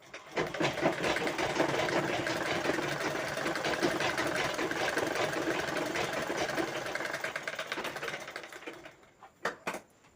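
A sewing machine stitches a blouse lining in one continuous fast whirring run lasting several seconds, close and steady, then stops with a few clicks, with no speech.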